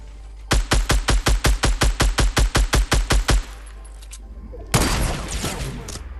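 Rapid automatic gunfire in the video game Fortnite, a burst of about sixteen evenly spaced loud shots over three seconds, followed by a sharp heavy blast with a decaying noisy tail.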